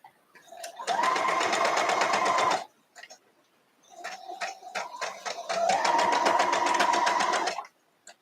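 A sewing machine chain piecing a mittens quilt block runs in two long, steady bursts of rapid stitching, close and loud, separated by a short pause and a brief stop-start.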